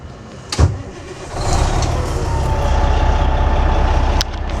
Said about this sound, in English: Truck does fire right up.